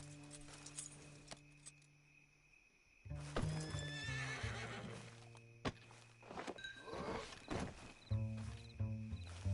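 A horse whinnies and snorts amid clopping hooves and thuds in Red Dead Redemption 2, after a few quiet seconds with a low steady hum.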